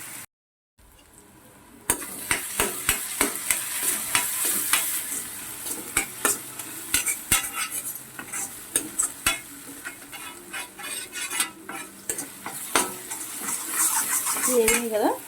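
Mutton curry base frying in a pan while a metal spoon stirs and scrapes repeatedly, steady sizzling under irregular clinks and knocks, close and alone without talk.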